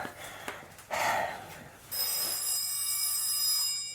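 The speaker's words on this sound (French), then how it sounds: "Le téléphone?" An old-style telephone bell rings, a continuous bright metallic jangle starting partway through and sustaining loudly to the end, preceded by rustling and breathy noises.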